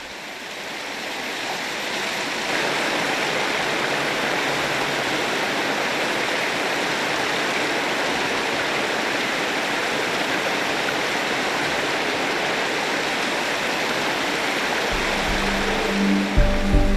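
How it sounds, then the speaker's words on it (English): A mountain stream in Tasmania rushes and gurgles close by, a loud continuous flow of water that rises in the first seconds and then holds steady. "After an hour's slow climb, a mountain stream is a welcome opportunity for Hideki"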